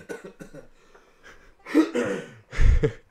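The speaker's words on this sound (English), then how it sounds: "While I'm coughing, everyone go look at Hillary Clinton coughing videos." A person coughs several times, the bursts growing louder and rougher toward the end, with softer breathy sounds before them.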